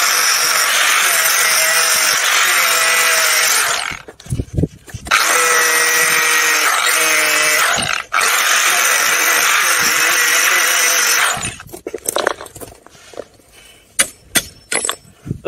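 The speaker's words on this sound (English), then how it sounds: "I'm going to have to use a grinder." Power grinder grinding metal on a homemade wind turbine project: loud sustained whining bursts that cut off twice, ending in scattered clanks and knocks.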